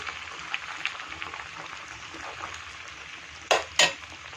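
Chicken pieces fry in oil for a homemade chicken pickle, giving a steady close sizzle with faint crackles. Near the end come two sharp clinks of a utensil against the pan.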